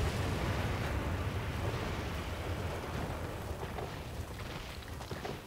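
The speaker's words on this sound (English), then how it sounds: "Simulates these explosions." Rumbling, roaring explosion effects from the city-building game SimCity 5, a dense low boom that holds steady and loud across the whole stretch with crackling debris texture above, no voices.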